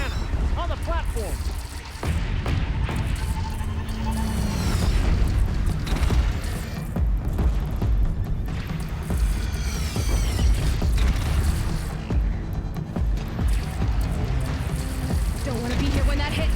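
Heavy booms and mechanical clanking fill a Horizon Zero Dawn battle as a cannon on a platform fires, loud deep blasts repeating amid grinding machinery, with voices talking over it.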